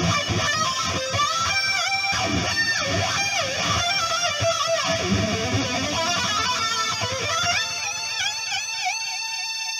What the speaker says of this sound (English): So, the whole solo a cappella would sound something like this.